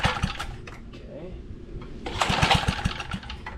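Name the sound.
small engine trying to start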